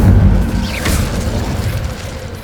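Incendio fire spell cast in the video game Hogwarts Legacy, a deep booming whoosh of flame with a brief bright crackle partway through, loud and sustained before fading slightly, no talking.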